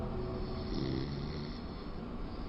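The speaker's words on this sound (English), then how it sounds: "It sounds like someone snoring." Steady, rough snoring breaths with a low rattling drone, fairly quiet and continuous, no talking.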